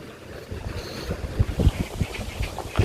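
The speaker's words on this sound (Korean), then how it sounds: "이게 바다야, 바다. 서해바다야." Wind buffets the microphone over the wash of the Yellow Sea along the shore at high tide at Anmyeondo, South Korea, with low rumbling gusts and surging waves.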